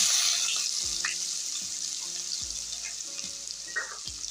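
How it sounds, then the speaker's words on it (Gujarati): Finely chopped onions fry in hot oil with cumin and mustard seeds, giving a steady bright sizzle with a few soft stirring knocks, close and fairly quiet with no talking. "ત્યારબાદ આપણે એની અંદર ડુંગળી નાખવાની છે"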